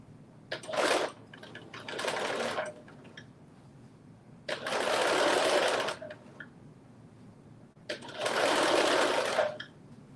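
A sewing machine runs in four bursts, stitching fabric for about one to two seconds each with short pauses between, its motor whirring close and fairly loud.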